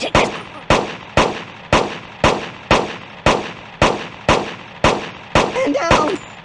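Gunfire at a shooting range in the mobile game Kick The Buddy, a dozen loud single shots in a steady, evenly spaced rhythm, each sharp crack trailing off quickly, with a brief electronic flourish near the end.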